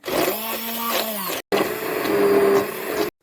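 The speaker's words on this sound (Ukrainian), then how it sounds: "Погружний блендер і все перебиваємо." An immersion blender purees cooked vegetables for homemade ketchup, with a loud steady motor whir in two close bursts, the pitch shifting slightly as the blade works through the mixture and a brief stop between the runs.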